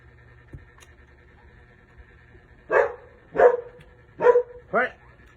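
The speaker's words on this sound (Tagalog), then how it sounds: "Napakalakas ng tahol ni Kwan" A big dog barks loudly four times in quick succession from about the three-second mark, each bark a deep, strong burst close by, after a quiet lead-in with faint background noise.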